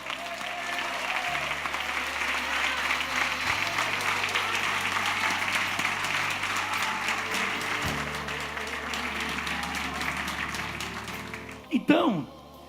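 A church congregation applauds the Lord with sustained, loud, even clapping over low sustained keyboard tones, and the applause ends abruptly in a brief burst of sound.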